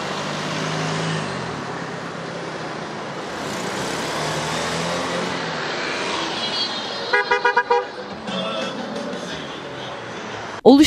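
Car horns honk repeatedly from a vehicle convoy amid steady traffic noise outside a train station, with a burst of short toots near the end and a loud blast at the close.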